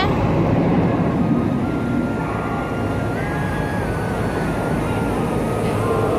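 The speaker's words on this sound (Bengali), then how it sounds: "ট্রেন ঢুকে গেছে" The Doon Express rumbles steadily into a station platform at Howrah, a loud continuous rolling roar with a faint whistle-like tone partway through.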